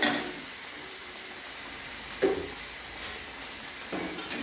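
Chopped onions fry in a pan in a steady, close hiss of sizzling oil, broken by a couple of brief stirring scrapes, with no one speaking.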